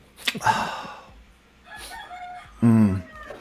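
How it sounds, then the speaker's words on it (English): A rooster crows nearby. Short clucks and calls come first, then a loud, ringing crow near the end, set against a quiet background. "Shut up, Rooster."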